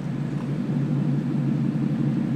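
Roush Stage 3 Ford with Activ8 active exhaust in track mode, giving a steady, deep, loud roar that fills the short stretch without a break and without any talk over it.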